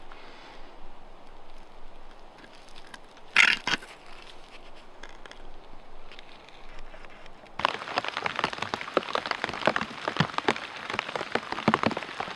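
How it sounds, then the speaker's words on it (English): Rain falling outdoors at a bunker site, a soft steady patter at first that turns to a dense, louder downpour of close drops in the second half, with one brief clatter early on. "I've been working, it's raining, I need to get that camera in quickly"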